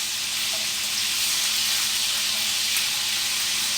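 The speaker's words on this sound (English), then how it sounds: "but you hear it sizzling" Bacon frying in a pan gives a steady, dense sizzle with hiss and crackle that holds at an even level from start to finish, with no voices.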